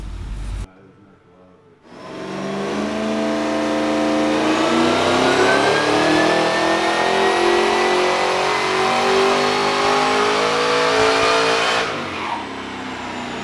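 A supercharged 383 stroker engine in a VY One Tonner revs on a dyno, climbing steadily in pitch as one long, loud, continuous pull for about ten seconds before cutting off abruptly.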